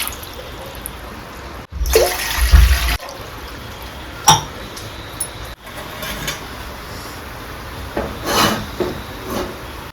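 Water is poured from a glass into a cooking pot for ragi mudde, with a short splashing rush and a few lighter drips and clinks afterward against quiet kitchen background.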